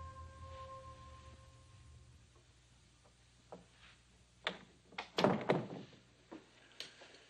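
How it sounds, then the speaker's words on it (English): A door is shut in a quiet house, heard as a few soft knocks and handling clatter building to a cluster of firmer thuds, then a last light tap; no voices. "Close the door."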